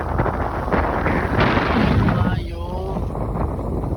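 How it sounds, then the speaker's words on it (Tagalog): Strong wind buffets the microphone in a steady roar, with a voice speaking over it. "Ang lakas ang hangin, grabe."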